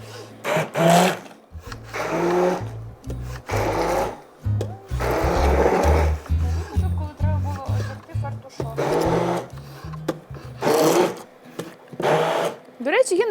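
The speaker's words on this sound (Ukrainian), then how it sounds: "зараз ми будемо це все подрібнювати" Kitchen blender grinding lentil batter for pancakes in loud, close bursts that start and stop repeatedly, with short gaps where someone speaks.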